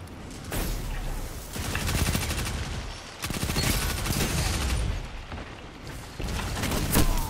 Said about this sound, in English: I'm using a machine gun. Or it's not uh, SMG, whatever.